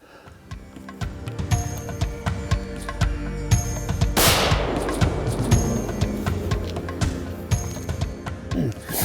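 A hunter fires a single rifle shot at a red stag in Hungary. The sharp crack comes mid-clip and leaves a long fading tail, with light ticking and rustling in the background.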